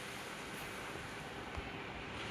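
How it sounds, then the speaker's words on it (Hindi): Strong wind blows in a steady, rushing roar with low buffeting against the microphone, fairly faint and unbroken throughout, no talk over it. "कितनी तेज़ हवा चल रही है, एकदम बहुत तेज़ वाली हवा"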